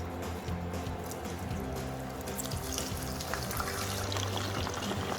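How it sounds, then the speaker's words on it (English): Potato wedges frying in hot oil already used for frying bitter gourd in a Punjabi home kitchen, a steady dense sizzle and crackle of bubbling oil filling the whole stretch, close and continuous with no talk. "in the same oil, we're going to fry our potato wedges"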